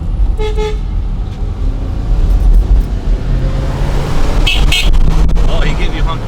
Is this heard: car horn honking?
yes